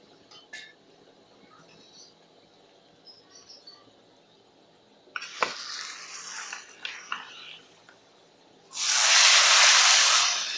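Spinach hits a hot pan with garlic for aloo palak, first faint clinks and rustles, then a loud, steady hiss of sizzling that fills the last two seconds.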